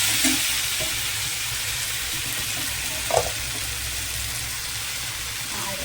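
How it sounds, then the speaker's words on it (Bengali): Beetroot frying in a pan: a steady broadband sizzle runs throughout, with a brief clatter near the middle and no talk. "আর করবো বিট ভাজা করছি"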